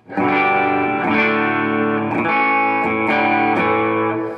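An overdriven electric guitar, a Yamaha Revstar RS320, plays several ringing chords in a steady rhythm on its bridge pickup, the tone bright and cutting, loud and close.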